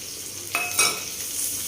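Onions and garlic frying in a pan with green chillies while cooking a dry taro (arbi) dish, a steady soft sizzle with a brief louder hiss and a light clink of stirring near the middle.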